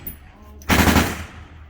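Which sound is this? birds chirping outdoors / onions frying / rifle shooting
rifle shooting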